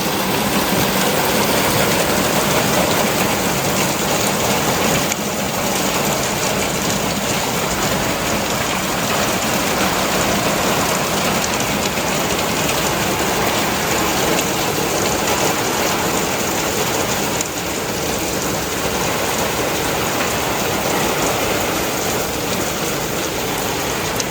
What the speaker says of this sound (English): it's raining again. Can you hear it?